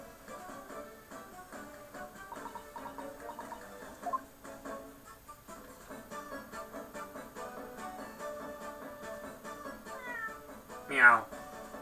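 A cartoonish cat meows once in a video game, a short rising cry standing out near the end over soft background music.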